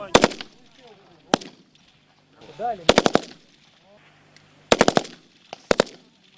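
Bursts of rapid small-arms gunfire, several short volleys of quick shots separated by pauses, loud and sharp, with faint voices in between.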